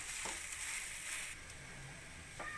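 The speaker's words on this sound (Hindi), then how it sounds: "और अब हम अपने पूरे मसाले को 4 से 5 मिनट अच्छे से भूनेंगे।" Mixed vegetable dosa masala frying in a pan, a soft continuous sizzle with faint stirring scrapes, quiet and close with no voices.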